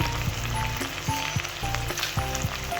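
Teasel gourd frying in oil with turmeric and red chili powder, a vegetarian kakrol dish: a loud, close, continuous sizzle with light stirring clicks and scrapes, no voices.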